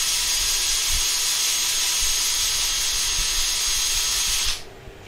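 A steady, loud whirring hiss of a power sander running continuously inside a wooden bowl on a lathe, then cutting off abruptly near the end.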